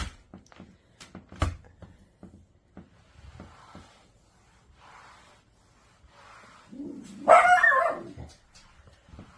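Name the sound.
dog barking at arriving car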